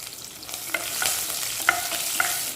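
Cumin and green chilies frying in hot groundnut oil for a Tamil mutton pepper fry, with a steady soft sizzle broken by a few sharp crackles and spits, close and alone.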